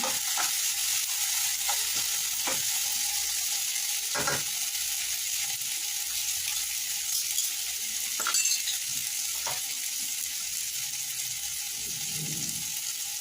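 Paneer masala stirred and frying in a pan for restaurant-style cooking, a steady sizzle with scattered scraping clicks of the spoon against the pan, continuous and fairly close, with no talk.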